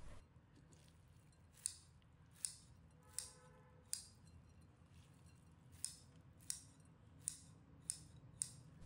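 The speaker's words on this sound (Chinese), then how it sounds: "取一把剪刀，将粉丝剪成小段" Scissors snip soaked glass noodles into short pieces, about a dozen crisp, close cuts at a steady rhythm in a quiet kitchen.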